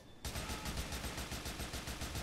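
Rapid automatic gunfire from a shooter video game, a steady stream of evenly spaced loud shots starting abruptly after a brief quiet moment and running without pause, no talking over it.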